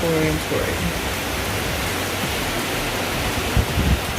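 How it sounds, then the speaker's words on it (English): Heavy rain pours in a dense, constant hiss, loud and close, with a few faint thumps and muffled background noise. "the rain is pouring"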